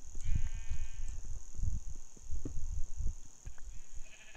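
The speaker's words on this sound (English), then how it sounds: "oh gosh, hello sheep" Sheep bleat in Minecraft in two wavering, nasal cries. A soft, thumpy low rumble runs beneath them, and a steady high tone hangs over the whole scene, with no talk.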